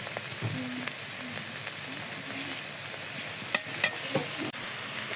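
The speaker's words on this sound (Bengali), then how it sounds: "আর এদিকে এই যে আমি সরিষার শাক রান্না করা হচ্ছে" Mustard greens sizzle and fry in a pan on a home stove, a continuous hiss with occasional stirring clinks and taps and no voices.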